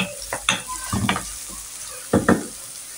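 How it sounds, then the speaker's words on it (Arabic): A large onion softening in oil in a pan, low frying hiss broken by several sharp stirring clatters and scrapes in uneven bursts, close and moderately loud. "نجيبو حبيبه تاع بصل كبيره، ندبلوها شويه في الزيت"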